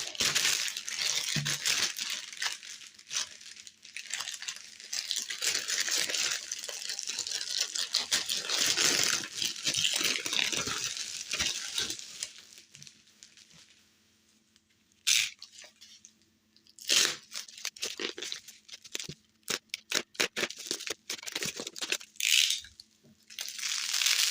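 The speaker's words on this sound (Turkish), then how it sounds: "İsterseniz hemen açmaya başlayalım paketimizi." Plastic wrapping on a package holding two cassette tapes is crinkled and torn open close up, in quiet bursts of rustling and crackling separated by short pauses.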